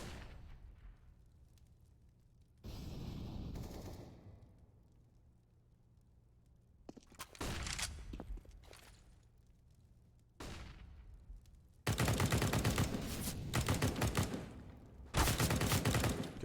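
Gunfire in a Counter-Strike match on Mirage comes in several bursts of rapid automatic shots, including a Krieg rifle, some sustained for a couple of seconds and separated by quieter gaps.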